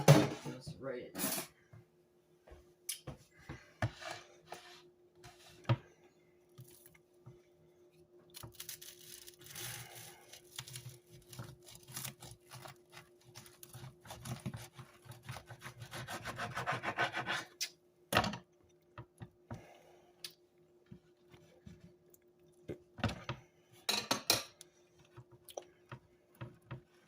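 A knife saws through a turkey club sandwich, rasping strokes of bread and filling in bursts and a long run of rubbing, with clicks and a voice heard in the pauses.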